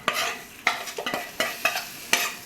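A spoon scrapes and clinks around a pot of sambar in a series of short, uneven strokes, close by, with no voices.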